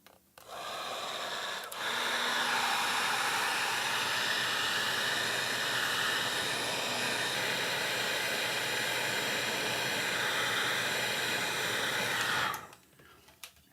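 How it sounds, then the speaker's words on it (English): A heat gun blows steadily for about eleven seconds while shrinking heat shrink tubing on a DIY MIDI dongle build, a loud, even, broadband hiss starting and stopping abruptly, with no talk over it. "to secure the heat shrink in place, you just need a heat gun."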